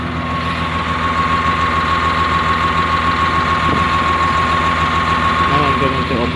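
A CAT 950H wheel loader diesel engine idles nearby with a steady, slightly uneven knocking rumble from a misfire, and a voice speaks briefly over it near the end.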